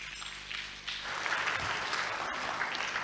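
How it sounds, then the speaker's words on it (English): An audience at a ministerial works and housing briefing applauds, the clapping swelling after a quieter first second into a sustained, fairly close patter of many hands. "Let's give him another round of applause"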